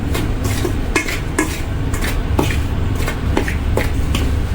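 A spoon scrapes and stirs rice flour inside a pot in a steady rhythm, the repeated strokes rasping against the metal under a constant background hiss.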